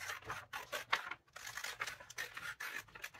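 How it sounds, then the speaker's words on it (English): Scissors cut through magazine paper in quick rhythmic snips with crisp rustling, close and fairly quiet, with no talking. "Maybe I'll cut the whole thing out"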